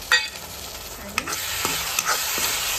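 Idli pieces are stir-fried in a pan, with a steady sizzle of frying under a few sharp clinks and scrapes from a spatula stirring them.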